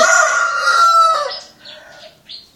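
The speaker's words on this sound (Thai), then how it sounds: "ไก่อยู่นี่" A rooster crows loudly and close, followed by a few softer clucks trailing off.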